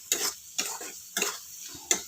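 Liver pieces fry and are stirred in a pan at home, giving four short bursts of sizzling and scraping spaced about half a second apart, close and moderately loud.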